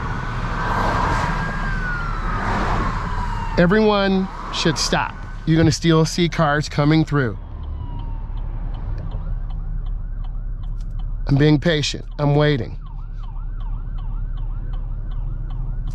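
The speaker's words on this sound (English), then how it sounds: "You should be able to hear the siren." An emergency siren wails in a rising and falling pattern from a passing vehicle, sounding over steady traffic noise while a person talks intermittently.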